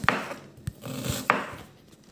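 A knife chopping onion on a board in a home kitchen: three sharp, distinct knocks spaced unevenly, fairly close and moderately quiet, with no speech.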